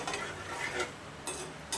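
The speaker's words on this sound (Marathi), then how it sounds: "आपल्याला तेलामध्ये तळून घ्यायचा आहे कढीपत्ता" Curry leaves fry in hot oil in a kadhai for a crispy corn chivda, giving a faint, steady sizzle with brief crackling bursts and soft stirring scrapes, no voices.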